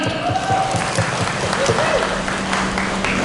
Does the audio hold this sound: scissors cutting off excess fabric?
no